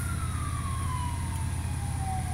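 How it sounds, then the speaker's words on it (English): A single ambulance siren tone from the video game Farming Simulator 23 slowly wails downward, steady and fairly loud over a low engine hum, with no talking. "And yes, that was an ambulance."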